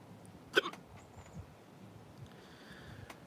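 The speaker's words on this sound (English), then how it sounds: "There is no remedy for hiccups." A single sharp hiccup stands out near the start, followed by faint breathy sounds and quiet room noise.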